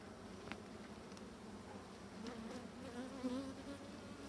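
Honeybees in a hive colony that may have lost its queen give off a soft, continuous buzzing drone, with a few sharper individual wingbeat whines rising briefly above the low hum.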